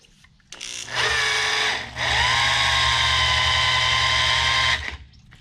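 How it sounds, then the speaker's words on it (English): A cordless DeWalt drill spins a big-block Mopar 508 stroker engine counterclockwise to prime the oil system, the overworked drill smoking. Its steady high whine runs loud and close for several seconds, dipping briefly once before winding down. "Hey, my drill is smoking."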